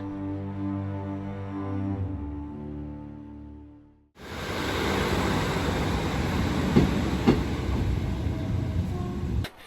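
A train on the West Highland line in Scotland rumbles steadily on the rails, loud and close, after a lower droning hum that cuts off abruptly partway through.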